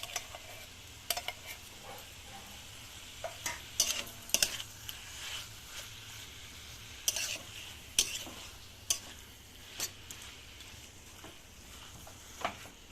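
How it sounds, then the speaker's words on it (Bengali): Taro stems tossed with spices and mustard paste in a pan, a spoon scraping and clinking against the metal in irregular bursts over a low steady sizzle, close and moderately loud, with no voices. "মশলার সাথে কচু ডাঁটাটা ভালোভাবে নাড়াচাড়া করে নেব।"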